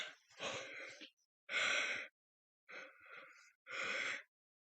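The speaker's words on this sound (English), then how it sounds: "as soon as I turn on the camera, I go yawn" A person yawns close to the microphone, four quiet, drawn-out breathy bursts separated by short silences.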